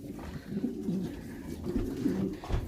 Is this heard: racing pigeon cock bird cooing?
yes